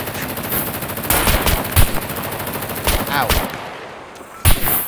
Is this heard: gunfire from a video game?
yes